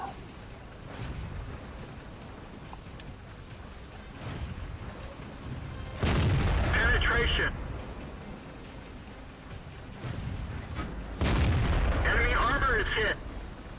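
Heavy tank cannon fire in World of Tanks, from a Soviet KV-1 tier V heavy tank battling near a town and hill: two loud booming blasts a few seconds apart, each with a rumbling tail, over steady low battlefield rumble.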